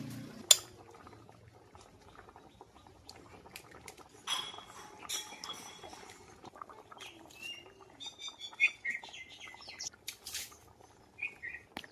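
Egg curry simmering in a pan after eggs are cracked straight into the gravy, with soft bubbling and scattered small pops and crackles close by, no voices.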